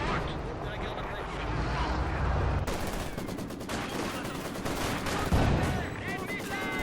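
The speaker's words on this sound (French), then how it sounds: "L'ennemi nous tire dessus." Gunfire in the World War II strategy game Company of Heroes 2, with dense machine-gun bursts and rifle shots crackling steadily over battlefield ambience, sometimes overlapped by a speaking voice.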